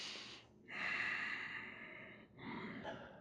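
Slow, close breathing during a yoga forehead-to-knee forward fold: a long soft exhale and a shorter drawn breath, quiet and alone with no talk.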